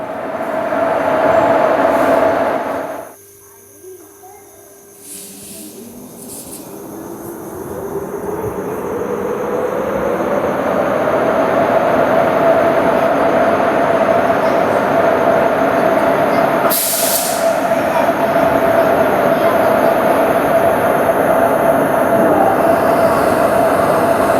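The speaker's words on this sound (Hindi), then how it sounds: "आज हमारी ट्रेन को लीड करने वाला है भुसावल लोको शेड का WAP4।" Marathwada Express hauled by a Bhusaval shed WAP4 electric locomotive rolls steadily and loudly nearby, a brief lull early on before the rumble and a high tonal whine build and hold, with a short sharp burst partway through.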